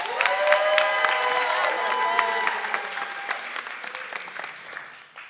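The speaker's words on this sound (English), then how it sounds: "Give our middle schoolers a round of applause." Audience applause for middle school speakers at an annual Martin Luther King Jr. oratorical competition, a steady hall-filling clapping that stays loud for several seconds and then slowly thins out.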